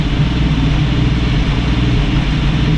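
A 1965 Mustang restomod engine idles with a freshly adjusted idle jet, giving a constant, loud, close-up low throb with no rev changes or voices.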